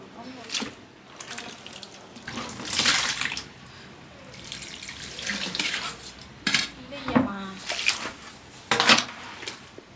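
Water is poured into a vessel while tomato pickle is made in a home kitchen, with clinking dishes, pots and utensils around it and a voice speaking now and then.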